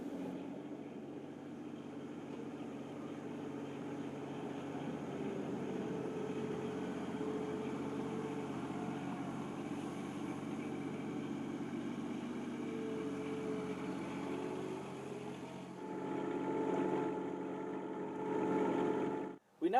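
Tractor with a front bucket collecting mulch to haul to compost bins, a steady droning engine hum running near-constant for many seconds, then shifting and revving briefly before cutting off at the end.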